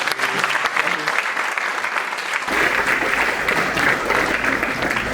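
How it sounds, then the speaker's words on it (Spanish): Audience applause at a panel event at the UTM, a steady wash of clapping from a crowd that lasts about five seconds and swells fuller and denser midway through. "Un fuerte aplauso, por favor."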